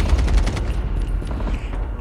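Rapid gunfire from the mobile shooter game Call of Duty Mobile, dense continuous bursts with booming low end filling the whole moment, loud and close.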